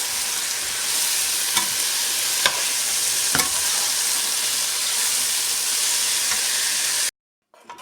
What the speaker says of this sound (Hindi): ये सारी वेजिटेबल्स स्टर फ्राई हो गई हैं।